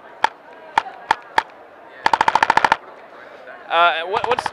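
Sharp synthetic gunshots from a recoil VR gun controller: four single shots, then a rapid automatic burst, a brief whirring electronic sound, and another quick burst, all close and loud.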